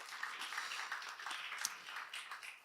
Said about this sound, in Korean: 우리 예배팀, 은사팀을 향해 좀 박수 쳐줬으면 좋겠어요